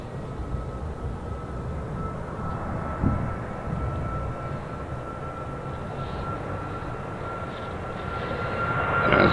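Alaska Airlines airliner taking off at Ted Stevens International Airport in Anchorage, heard as a steady broadband jet roar with a constant whine that swells slightly toward the end, distant but continuous, with no voices.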